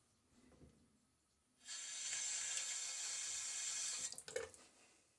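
Running tap water rinses a Gillette Nacet blade in a Fatip Piccolo safety razor, a steady close hiss for a few seconds before the flow is shut off with a few clinks.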